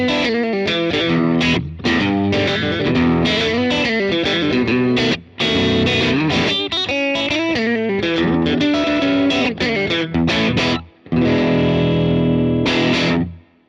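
Electric guitar played through an Origin Effects RevivalDRIVE overdrive pedal set to its valve rectifier side, giving loud, continuous overdriven chords and riffs with brief pauses between phrases.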